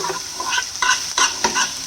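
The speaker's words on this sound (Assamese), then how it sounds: "এতিয়া আদা ৰচুনৰ পেষ্টখিনি দি দিম আৰু ইয়াতে মেথিখিনি দি দিছোঁ" Ginger garlic paste and fenugreek seeds sizzle in butter for a black dal tadka, a close crackling hiss punctuated by several quick scrapes of a spoon stirring the pan.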